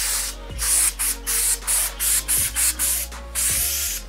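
Brake parts cleaner sprays onto a camper's Acme jack screw in a series of short, loud hissing bursts, close up, with brief gaps between them.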